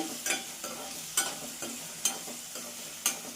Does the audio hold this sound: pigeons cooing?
no